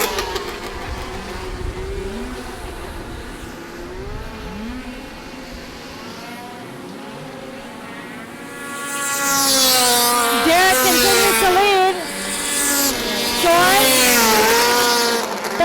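Vintage Formula 500 race cars circle an ice oval at a Wisconsin event, their mid-pitched engines droning and rising as they accelerate, growing louder and more intense in the second half, with a commentator's voice over the noise.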